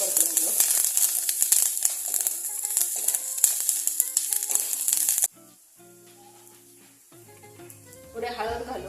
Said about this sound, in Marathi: एक 2 मिनिट आपण तेलावरती ह्या मिरच्या परतून घेऊ